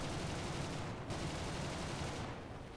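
An enemy bomber's belly gunner in War Thunder fires a dense, continuous rattle of machine-gun rounds, steady and fairly faint, with a couple of brief dips.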